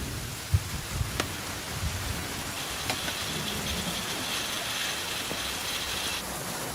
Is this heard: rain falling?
yes